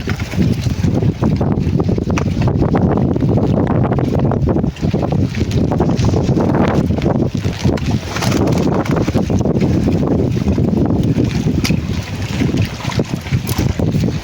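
Strong typhoon wind roars steadily and loudly into the microphone, a constant gusting rush of buffeting noise with no break.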